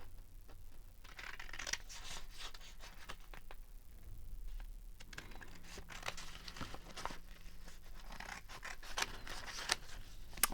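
Scissors trimming paper at a craft table, a series of soft close snips and papery rustles at low level, with no voices.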